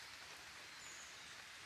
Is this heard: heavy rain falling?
yes